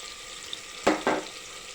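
Soaked tamarind dropped onto softened tomatoes in a hot pan, two quick bursts of splashy sizzle rising over a faint steady frying hiss.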